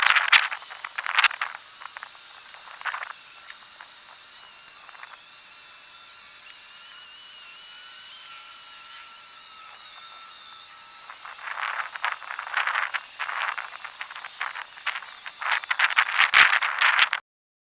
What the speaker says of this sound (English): So I'm gonna sand some of this down up here with this a little bit more.